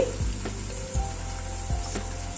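Potato and carrot pieces drop into a hot pan, setting off a constant bright sizzle and crackle with a few low knocks as they land and are stirred.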